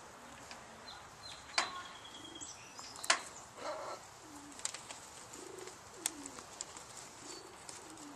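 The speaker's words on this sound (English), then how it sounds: "I want to get some pictures of doves." Doves cooing in soft, low repeated phrases scattered through the clip, quiet and fairly distant, with sharper chirps and faint clicks from other birds around them.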